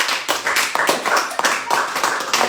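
A church congregation claps together in acclamation at an Easter service, a dense, steady run of many hands applauding with no talking over it.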